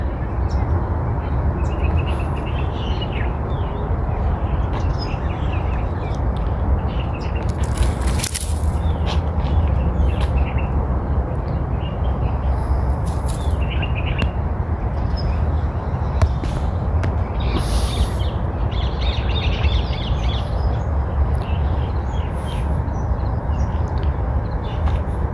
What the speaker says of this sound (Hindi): मैं कुछ देर के लिए चुप करूँगा ताकि आपको परिंदों की आवाज़ें,